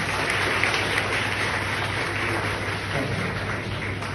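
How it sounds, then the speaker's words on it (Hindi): Sustained, dense applause from a school audience cheering its teachers at a Teachers' Day stand-up show, a loud, even wash of many clapping hands close by, without a break throughout. "और इससे भी जोरदार तालियां हमारे टीचर्स के लिए।"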